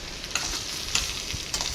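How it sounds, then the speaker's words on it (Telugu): Cut tomato pieces tossed into potato curry frying in a pan: a steady, close sizzle with a few soft stirring scrapes and knocks. "ఇప్పుడు ఇందులోకి మనం కట్ చేసి పెట్టుకున్న టమాటా ముక్కలను వేసుకుందాం"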